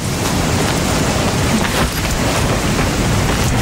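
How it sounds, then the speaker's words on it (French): A sudden warm-weather rain shower pours down steadily, a dense, even wash of falling rain that stays loud and constant throughout with no voices. "Ah, une averse de chaleur."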